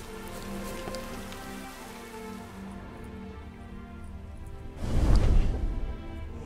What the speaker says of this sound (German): Ach, es regnet auch gerade wieder, fällt mir auf.